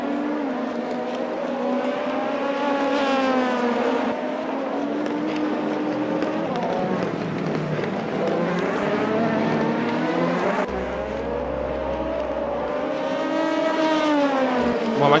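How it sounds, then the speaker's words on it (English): A racing car in a video game speeds around the Autopolis circuit, its engine whining and climbing in pitch through the gears, then dropping and rising again. The engine sound is loud and continuous, and no one talks over it. "we're looking at Shaka Reza starting to continue his lap."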